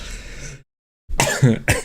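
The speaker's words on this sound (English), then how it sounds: "Excuse me for the coughing." A single person coughs up close, a short rough burst, then a silent pause and two more harsh throaty coughs in quick succession.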